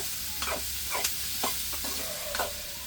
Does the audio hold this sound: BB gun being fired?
no